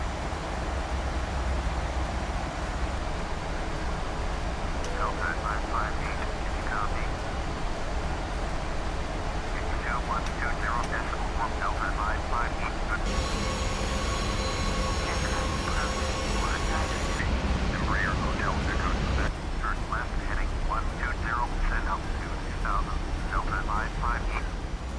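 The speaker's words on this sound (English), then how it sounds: "let's get on with landing this PMDG 737-900 of Delta Airlines into Cancun on runway 12 right" PMDG 737-900 Delta airliner landing at Cancun runway 12 right in a flight simulator, a steady loud engine and airflow roar throughout with chirping cockpit sounds and a brief radio-like tone in the middle.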